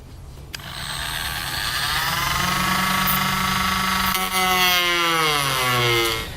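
A power saw cuts a section out of a plastic bumper fascia to fit a hidden trailer hitch, a loud, close, continuous whining buzz whose pitch slowly drops as the blade bogs down near the end.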